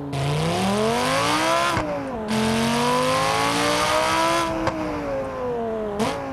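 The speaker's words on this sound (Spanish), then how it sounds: "Y ahí sale el coche." A car in the driving simulator BeamNG.drive, in manual mode, pulling away with a loud engine revving up through the gears, pitch rising and dropping at each shift, close and continuous with no talk.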